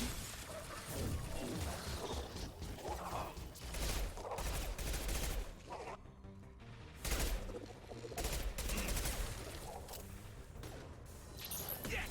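Heavy hand cannon gunfire in the sci-fi shooter Mass Effect 2, repeated loud impactful shots with crashes and mechanical clatter amid ongoing combat noise.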